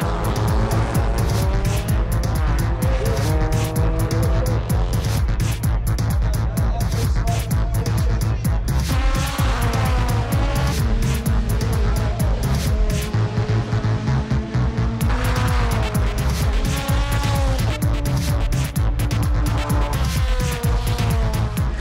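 Race cars at Jamwest Racing in Jamaica scream around the track continuously, loud engines rising and falling as they pass, with tires squealing through the corners, heard from beside the track.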